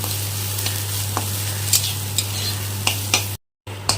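Banana blossom fries in a pan with a low steady sizzle, punctuated by occasional soft stirring clicks and scrapes, and a brief dropout near the end.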